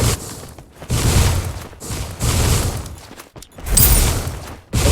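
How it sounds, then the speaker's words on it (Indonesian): Bursts of gunfire in a video game match, arriving as several loud, broad blasts separated by brief gaps, with no voices over them. "satu tembakan sudah dikeluarkan"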